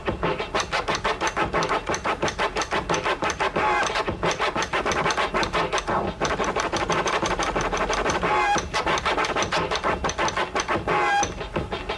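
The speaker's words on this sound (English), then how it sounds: "this scratch is called the chirp" Rapid, rhythmic chirp scratching on a turntable with quick chirping cuts repeats steadily over a driving beat, loud and continuous throughout.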